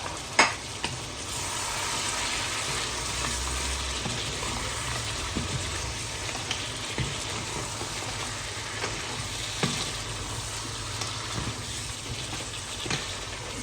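Chopped prawn legs frying in a pan, a dense, steady sizzle close up with small crackles and light stirring scrapes throughout, no talking.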